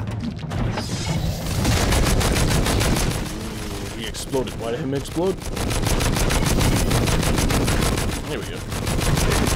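Minigun fire in the Too Human video game, a dense continuous stream of rapid shots running almost the whole time, with a brief spoken remark mixed in.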